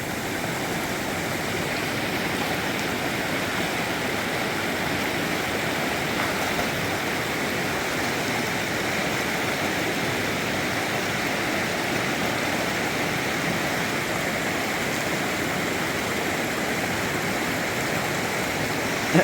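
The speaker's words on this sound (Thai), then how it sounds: "น้ำไหลแรงมากเลย" Fast, strongly flowing river beside a waterfall, a dense continuous rushing roar of water that stays loud and even from start to finish with no other sounds.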